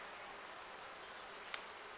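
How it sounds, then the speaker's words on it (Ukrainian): A dense, steady hum of many honeybees buzzing at an opened nucleus hive nearby, continuous and fairly faint, with a brief click near the end. "Ой-ой, тут бджоли хватає."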